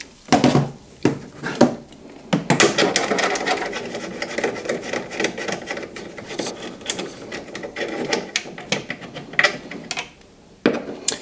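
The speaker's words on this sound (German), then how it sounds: "mit der 13er Nuss müssten wir das da gelöst bekommen" A 13 mm socket on a ratchet loosens bolts on a BMW M2 Competition during an air filter service: rapid bursts of close mechanical clicking, loud and sustained, separated by short pauses and a few sharp knocks.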